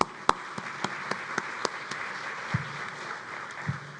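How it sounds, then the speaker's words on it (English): Faint, sparse clapping from a conference audience with scattered individual claps rather than a full ovation, quiet and short. "Another round of applause for Dave Cotter"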